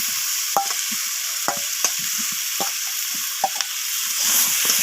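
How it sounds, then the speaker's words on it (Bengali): Fried potatoes sautéed with spices and green chilies in a pan: a steady bright sizzle with repeated sharp scraping strokes of a spatula at irregular intervals, close and clear with no talking. "তো আলুগুলোকে আমি সব কিছু মশলার সাথে এইভাবে কষিয়ে নিচ্ছি।"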